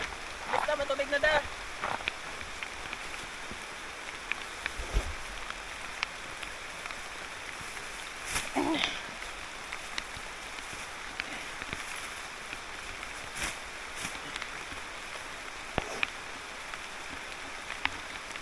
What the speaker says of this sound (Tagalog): Nabuta kami ng ulan.